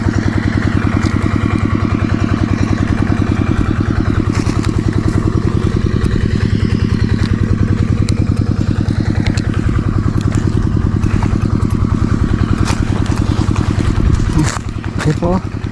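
Small engine running close by, a loud steady rhythmic chugging that continues throughout, with faint clatter near the end.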